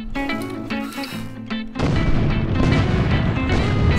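In ARK: Survival Evolved, a self-destructing bomber creature blows up. Tonal, pulsing game effects give way to a loud, sustained, rumbling blast that fills the rest of the moment.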